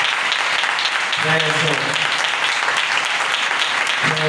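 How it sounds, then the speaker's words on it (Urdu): A church congregation at a Thursday night prayer meeting applauds loudly, a dense sustained roar of clapping with voices calling out over it. "آئے زوردار تالی بجائیں خدا کے نام میں، زوردار تالی۔"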